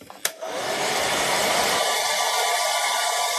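A hair dryer blows on a freshly painted low-relief scenery model of Bag End, switching on with a click and then roaring steadily and loudly close by, with no talking.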